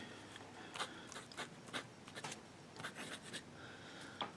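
A broad-nibbed Delta Dolcevita Zen fountain pen writing on thin Tomoe River paper, giving faint, close scratchy strokes in short irregular bursts over a quiet background.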